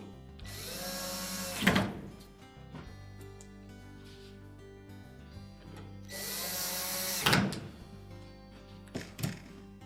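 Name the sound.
power driver fastening retaining screws on Whirlpool dryer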